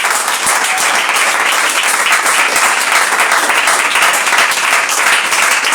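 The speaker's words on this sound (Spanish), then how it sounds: "alguien que le pueda dar un aplauso a Cristo." A church congregation claps loudly and continuously, a dense, even roar of many hands filling the room without a break.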